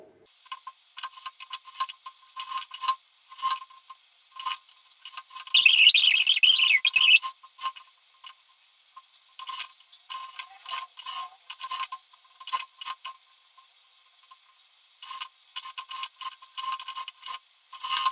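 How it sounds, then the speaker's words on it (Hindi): A sewing machine stitches blouse fabric, running in short mechanical bursts of rapid ticking with pauses between them. One louder, longer run of stitching comes near the middle, and the surroundings are otherwise quiet. "तो चलो यहाँ पर हम सिलाई लगा देते हैं।"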